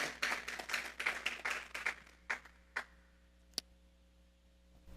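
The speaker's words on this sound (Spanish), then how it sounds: "Vamos a darle una ofrenda de palmas a Dios en esta hora" A church congregation at a Sunday service claps as an offering to God: a brief burst of fairly faint, quick applause that thins to a few scattered claps and then falls silent.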